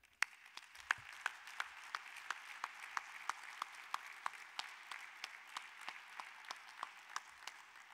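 A conference audience applauds together, steady dense clapping with sharp individual claps standing out, fairly distant and quiet, continuing throughout.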